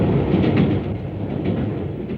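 A 1950s British diesel multiple unit train runs steadily with a broad, continuous low rumble and rolling rail noise, fairly loud and unbroken throughout.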